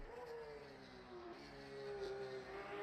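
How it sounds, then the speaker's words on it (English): Porsche 911 RSR GTE race cars at Imola in a racing video game, engines droning and rising in pitch as they approach and pass, a sustained moderate roar heard alone without speech. "So you can hear some more of the cars now coming through."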